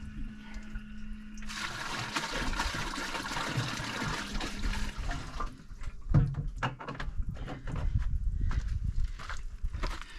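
Water is poured into a Companion Aqua portable camping shower water heater, a rushing splash for several seconds followed by quieter trickles and knocks, fairly close and alone.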